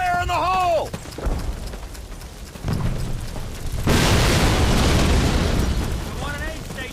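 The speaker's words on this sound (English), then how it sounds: "explosives, go! Stand back! Fire in the hole!" Explosives detonate in the first Call of Duty game's opening mission: a deep boom rolls in after shouted commands, then a second, louder blast with sustained rumbling debris noise that slowly fades, with voices shouting at the start and end.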